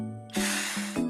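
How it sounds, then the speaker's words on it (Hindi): A short hiss of water sprayed onto old wallpaper in a Shin-chan cartoon, over a faint tonal background with no speech. "इसके ऊपर ऐसे पानी स्प्रे करते हैं"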